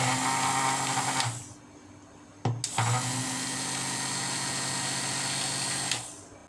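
Coffee soap batter for cold process soap is mixed with a motorized blender in two steady whirring bursts separated by a short pause, loud and close.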